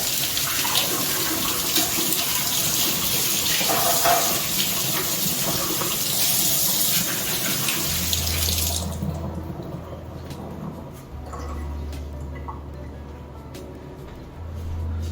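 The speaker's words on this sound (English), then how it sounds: "Just wash my hands quickly." Hands are washed under a kitchen tap, the water rushing loudly and close for about eight seconds before it shuts off, leaving only a quiet low hum and a few faint clicks.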